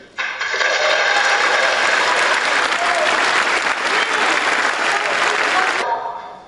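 A packed hall at the CERN announcement of the Higgs boson discovery erupts in loud, dense, sustained applause that fills the room evenly, then cuts off abruptly near the end.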